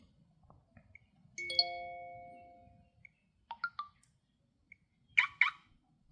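Car lock notification tone on a Unihertz Titan 2 Android phone: a series of short electronic chirps and beeps, including a sustained tonal beep and a double chirp near the end, fairly quiet, with no speech.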